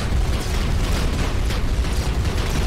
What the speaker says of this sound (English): Like those explosions are beautiful as all hell.